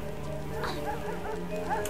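Dogs in the Tomb Raider 4 game, locked in Saladin's citadel, bark and whimper faintly beneath game music and someone talking.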